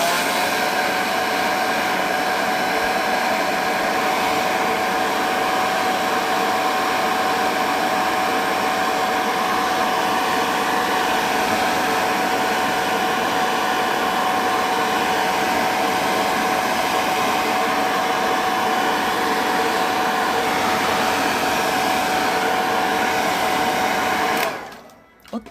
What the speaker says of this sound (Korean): 너무 안 마를 때는 드라이기를 씁니다.